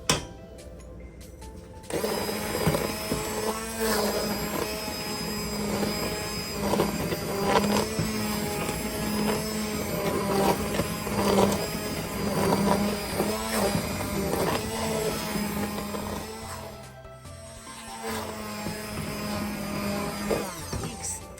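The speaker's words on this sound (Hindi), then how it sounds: "अब मैं इसको हैंड मिक्सर से मिक्स करूंगी।" A hand mixer whirs steadily and loudly for a long stretch mixing milk and bread for matka kulfi, its motor hum wavering as it churns, pausing briefly near the start and again later.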